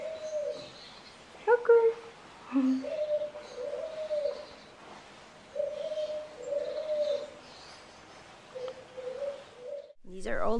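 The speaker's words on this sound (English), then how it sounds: "These are all doves here from different color." Doves of different colours coo at a bird rehabilitation centre in Zundert, with soft repeated coos and occasional chirps over a faint hum, and a person talks briefly near the end.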